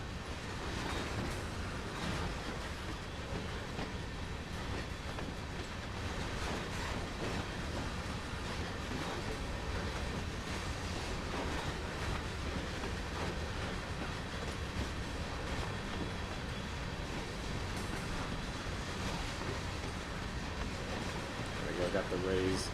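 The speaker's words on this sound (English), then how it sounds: "We'll do, I guess, a very slow train by." A CSX GP38-2 diesel locomotive in Train Sim World rolls slowly past with a steady low engine rumble and rhythmic clickety-clack of wheels over rail joints, continuous and close throughout.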